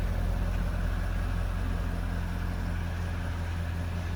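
A 2010 Chevrolet Corvette 3LT engine idles with its exhaust dampers closed in quiet mode, giving a steady, low, subdued rumble that holds even and unbroken throughout.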